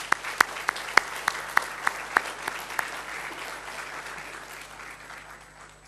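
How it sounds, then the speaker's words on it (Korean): A church congregation applauds its choir in a sustained, dense wash of clapping with a few sharp, louder claps standing out early on, gradually thinning toward the end. "우리 찬양대가 더 잘하도록 우리 박수, 격려의 박수 한번 더 주시기 바랍니다."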